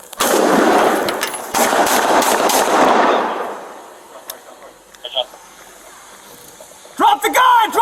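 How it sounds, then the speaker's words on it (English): Gunfire erupts during a San Francisco police confrontation with a suspect, a loud rapid burst of shots with echoing reports for about three seconds that then fades, followed by quieter movement and shouting voices near the end. "Shots fired."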